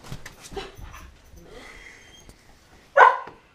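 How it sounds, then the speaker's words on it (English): A dog makes soft whimpers and panting sounds, then lets out a single short, loud bark near the end, close by, with a few quieter vocal noises before it. "Annie, don't bark."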